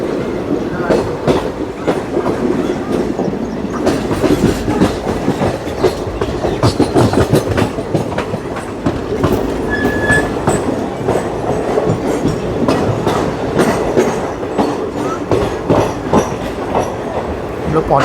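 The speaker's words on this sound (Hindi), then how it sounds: "हमारी ट्रेन।" A train passes at Gurgaon railway station with a continuous rumble and a repeated clickety-clack of wheels over rail joints. It is loud and close, and a few brief high squeals rise over it.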